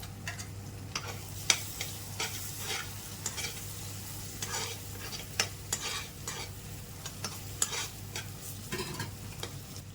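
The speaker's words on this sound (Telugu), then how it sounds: "ఈ పేస్ట్ను కూడా మరో 2 మినిట్స్ ఇలాగే ఫ్రై అయితే చేయండి." Paste fries in a pan under a soft sizzle while a spoon scrapes and taps repeatedly in a quick, uneven rhythm, close and fairly quiet.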